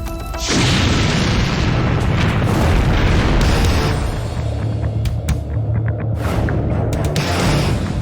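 A loud, sustained roar of explosions with heavy booming rumble, continuous blasts and crackling bursts layered on top for several seconds.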